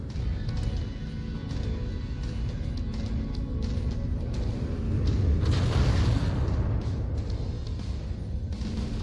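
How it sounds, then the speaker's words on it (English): Rockets launched from a mech in MechWarrior 5 Mercenaries, a continuous rumble of booming blasts and bursts, loud and dense, swelling midway through the clip with no voice over it. "I can at least fire some rockets at the things though"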